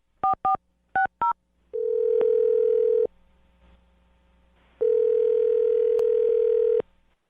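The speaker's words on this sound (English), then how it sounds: "I'm going to dial his phone number right now." Telephone dialing: a few short touch-tone beeps as a number is keyed in, followed by two long steady ringback tones separated by a pause, clean and close with no talk.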